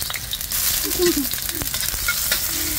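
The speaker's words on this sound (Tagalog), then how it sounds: "At mainit na rin ulit yung ating mantika. Lagay na natin yung ating ginger." Ginger hits hot oil and sizzles steadily at close range for a few seconds, with faint scraping and a brief murmur in the background.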